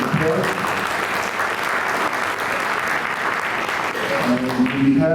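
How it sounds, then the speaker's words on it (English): Sustained applause for the Rotary Club at a Hollywood and Liberia Civic Association event, many hands clapping in a steady, full wash from start to finish, with voices faintly underneath toward the end. "Let's give the Rotary Club another applause."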